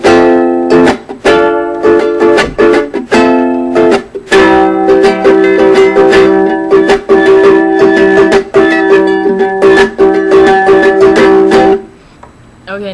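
Acoustic guitar strumming the first-verse chords of a song in a steady rhythm with clear sustained harmonics and brief pauses between strums, close and loud, ringing out and fading at the end.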